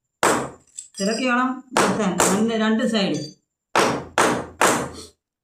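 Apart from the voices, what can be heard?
hammer beating a soda bottle cap flat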